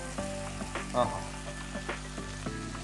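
Chicken frying in a pan gives a steady sizzle with brief stirring scrapes over a low background hum.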